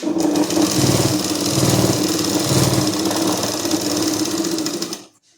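A sewing machine runs steadily for about five seconds, stitching the double-folded edge of salwar fabric, its fast even rattle holding close and loud before cutting off.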